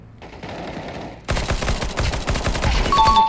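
Rapid automatic gunfire in the video game Counter-Strike starts abruptly and rattles on in dense, loud bursts, rising toward the end.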